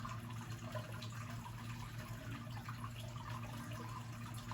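Water is scooped and poured from a fish tank during cleaning, producing a soft, steady stream of splashing and trickling that runs continuously at low volume, close by.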